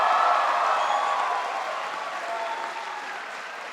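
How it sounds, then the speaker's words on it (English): An audience claps for Senator Sanders at a State of the State event, with dense, steady applause that slowly fades toward the end. "Let's give him a round of applause."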